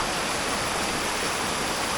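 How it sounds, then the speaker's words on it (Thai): A waterfall in Prachinburi, Thailand, pours with a loud, steady rushing roar that fills the whole moment without any speech. "มาเที่ยวน้ำตกคนเดียว มีน้ำแล้วนะ"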